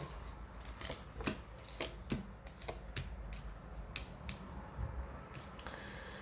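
Tarot cards being shuffled and handled, a steady run of crisp flicks and snaps with soft rustling beneath, fairly quiet and close.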